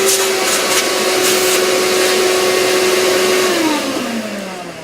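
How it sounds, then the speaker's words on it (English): A shop vacuum cleaner draws debris out of a freshly drilled screw hole, a loud steady whine running throughout that drops in pitch and fades slightly near the end as it winds down. "Cue the vacuum."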